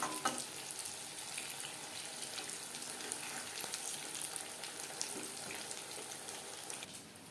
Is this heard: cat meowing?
no